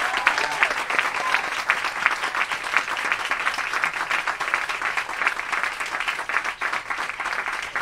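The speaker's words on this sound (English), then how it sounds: "let's give a round of applause for these two" A book event audience claps steadily for the author and interviewer, a dense, sustained round of applause filling the room with no voices on top.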